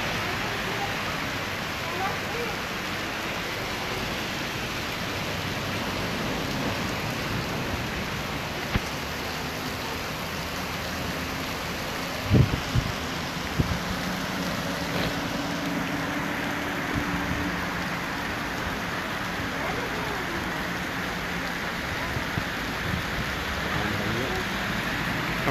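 Heavy rain pours onto a city street in Khemisset, Morocco, recorded from beside a café: a dense, steady hiss of falling water throughout, with a few brief knocks and faint background voices.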